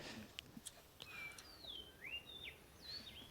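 Birds chirp and whistle in the ambient backdrop of a Counter-Strike match map, several short rising and falling calls spread across the clip, clear but not loud against a steady low background hum.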